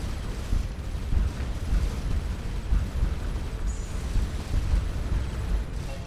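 Rumbling explosions from missile strikes in the Starcom Nexus space video game, a dense continuous low roar of blasts and booms at steady loudness with no talking.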